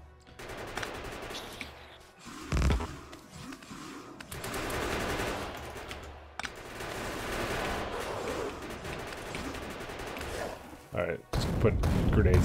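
Grenade blasts and bursts of gunfire in the desert deathworld of Factorio 0.16, sustained and dense with a few heavier thumps standing out, while someone talks over the combat.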